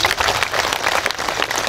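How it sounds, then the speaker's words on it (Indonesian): Brief burst of crowd applause at a religious lecture gathering, many hands clapping together, steady and fairly loud for under two seconds. "Tepuk tangan dulu untuk keduanya."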